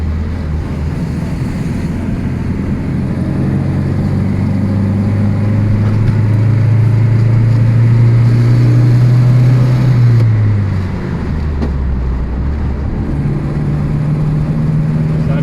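Citroën Traction engine droning steadily, pitch rising through a gear change then dropping and recovering as the driver downshifts; a loud, continuous low hum with no talk.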